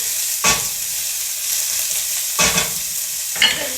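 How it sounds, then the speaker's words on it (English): Onions sizzle steadily while sauteing in a pan, a close, bright hiss broken by three louder scraping stirs of a utensil. "Sizzling away."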